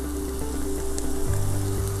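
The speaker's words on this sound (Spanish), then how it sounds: "aquí vamos a empezar a hacer el refrito. Vamos a adicionarle aquí también comino" A refrito with cumin fries in a pot, a soft continuous sizzle and crackle heard up close, with no voices.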